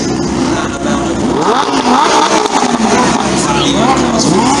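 Supercar exhausts revving loudly in a slow parade through traffic, a dense continuous roar of several engines rising and falling close by, with voices talking over it.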